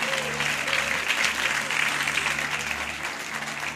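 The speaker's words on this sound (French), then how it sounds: "Je pense qu'on peut applaudir un peu plus fort." A church congregation at a Christmas children's event claps steadily, a sustained wash of applause with a faint tonal hum underneath.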